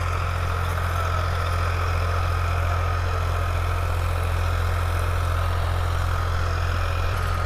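A Farmtrac 60 EPI tractor runs a rotavator in a field, its engine holding a steady, even drone with a constant low hum, loud and unbroken, with no talking.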